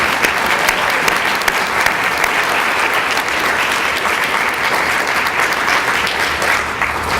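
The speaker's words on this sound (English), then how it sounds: "Let's please give them a better round of applause." An audience at a county government State of the County address breaks into sustained, loud applause, a dense wash of many hands clapping continuously from start to finish.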